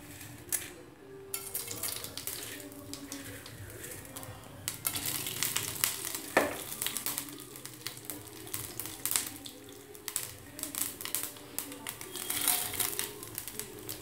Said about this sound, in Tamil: சொன்ன அந்த கடுகு, இன்னும் உளுந்தம்பருப்புலாம் ரெடியாக